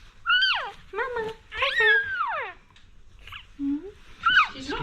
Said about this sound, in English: we like loud puppies